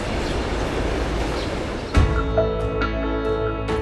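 Korail West Gold tourist train running on the rails, a steady rumble of wheels and carriage that turns into sharper rhythmic clicking and clatter halfway through.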